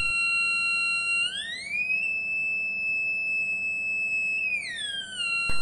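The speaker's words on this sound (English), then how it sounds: "This is the schematic of the 555 timer IC as a sound generator circuit." A DIY electronic sound generator built around a 555 timer IC emits a loud, continuous alarm tone that sweeps up in pitch, holds steady, then slides back down, with a faint hum underneath.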